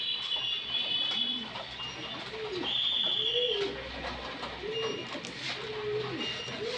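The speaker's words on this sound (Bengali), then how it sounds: "এবং কবুতরগুলো মাসাল্লাহ সুস্থ সবল" Lahori pigeons at a fancy pigeon farm give a run of rounded, rolling coos, about six in a row at a steady pace, close by over a low background hum.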